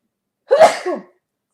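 A single sharp sneeze, close and loud, with a quick breathy burst that trails off in a fraction of a second, heard alone against silence.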